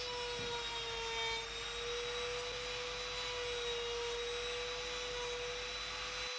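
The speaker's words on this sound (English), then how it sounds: "Putting a half round on the top of the small router." A small router cuts a half-round profile along the top edge of a wooden canister box lid, giving a steady, quiet, high-pitched motor whine that holds evenly throughout with no talking.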